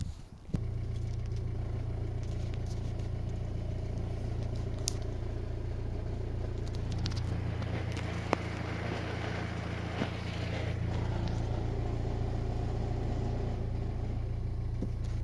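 A car engine with a worn clutch thrust release bearing runs steadily and loudly for the whole stretch, with a constant low drone and some clatter, plus a brief dip in the low rumble midway.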